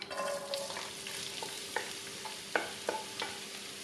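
Onion frying in hot oil in a roomy pot, a soft steady sizzle with several light clicks of stirring, close and without talk.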